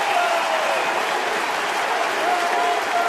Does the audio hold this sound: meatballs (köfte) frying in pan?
no